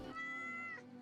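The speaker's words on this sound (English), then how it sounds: "Keep petting the cat." A single drawn-out meow from a cat being petted in the video game Yes, Your Grace, clear and close for about a second.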